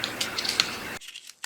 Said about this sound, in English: And I'll trim back anything that hangs over.